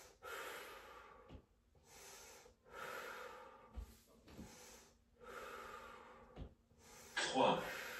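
Repeated forceful exhalations during a wall Pilates exercise, several broad breathy bursts in a steady rhythm, close and moderately loud, with a sharper gasp near the end.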